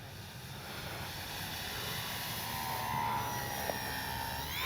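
An E-flite Sportix 1.1m RC airplane comes in to land on a calm, warm day, its electric motor a steady whine that stays at a fairly even level and swells slightly near the end, heard alone from a moderate distance.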